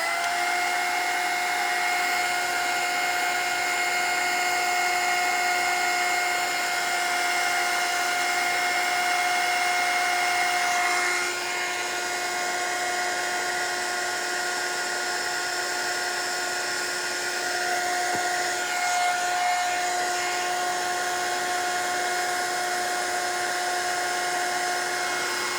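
A handheld dryer blows hot air over paint on a mixed-media scrapbook layout, a steady loud whirring hum with a high whine that holds without pause and shifts only slightly in tone partway through.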